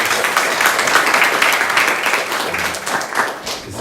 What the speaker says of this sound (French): On peut applaudir pour l'accueil.